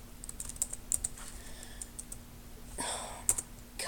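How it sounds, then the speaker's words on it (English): Mouse buttons and computer keys clicked in a game session, giving scattered light taps in irregular bursts, with a brief rustle near the end and no talking. "Why do I keep clicking the wrong button?"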